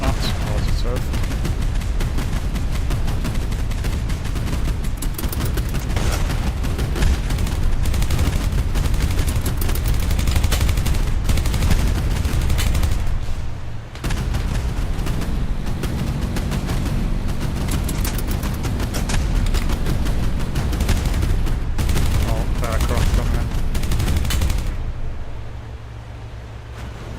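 Video game naval battle with mortar shells and gunfire: dense rapid bursts of shots and booms rolling almost continuously, briefly dipping midway, loud and close, with faint talk underneath.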